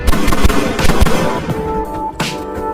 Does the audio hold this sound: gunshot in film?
yes